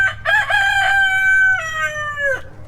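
A rooster at an off-grid homestead crows close and loud, a single drawn-out cock-a-doodle-doo with a stuttering start and a falling end, over faint background noise.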